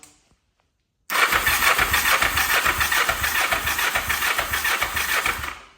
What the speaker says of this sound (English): It's on. Engine on.